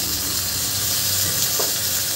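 Tomatoes dropped into hot oil with goda masala for groundnut aamti, a loud continuous close sizzle and hiss of frying throughout.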